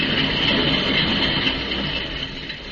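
A train rolls along the rails in an old radio drama, a steady, dense rumble and rattle of the cars that holds for a few seconds and then eases slightly in loudness.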